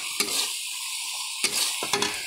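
Mutton masala is stirred in a pan for a kasha dish, three sharp spatula scrapes against the metal set over a quiet background sizzle, close and distinct.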